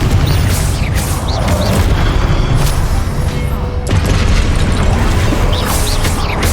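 The Confringo spell's explosion in Hogwarts Legacy during a combat trial: loud, dense blasts and bursts amid constant battle noise, close and heavy, with whooshing spell effects layered throughout.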